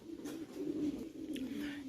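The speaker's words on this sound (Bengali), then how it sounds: "এখানে টোটাল আট কালারের বারো পিস কবুতর আছে" Lahori pigeons coo in a low, soft, rolling call that carries on steadily, with faint rustling and brief chirps around it.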